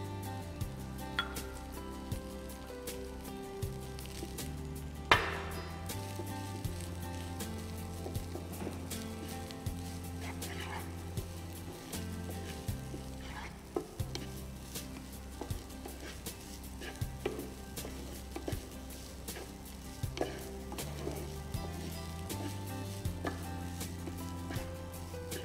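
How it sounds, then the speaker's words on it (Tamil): Boiled rice being stirred together with masala in a pan, a steady bed of scraping and stirring noise under background music, with occasional louder clinks of a utensil against the pan. "இந்த ரைஸோட மசாலாலாம் சேர்த்து நல்லா மிக்ஸ் பண்ணியாச்சு"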